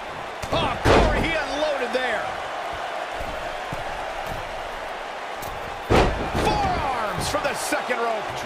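Heavy slams from a wrestling suplex in WWE 2K20, two booming thuds several seconds apart amid crowd noise and excited commentary.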